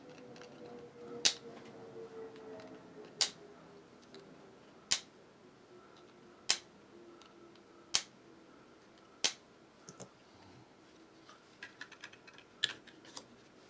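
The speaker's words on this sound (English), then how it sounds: "I'm gonna have to trim these links down just a bit" Component leads being trimmed with cutters during a PicoBoy handheld build: about seven crisp, close-up snaps spaced roughly a second and a half apart, then a cluster of lighter, quicker clicks, over a faint steady room hum with no talking.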